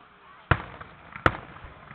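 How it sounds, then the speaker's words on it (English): Two sharp firework bangs from a public fireworks show in Olathe, Kansas, spaced under a second apart, each a loud punchy crack with a brief tail over a low crowd hum. "Two fireworks."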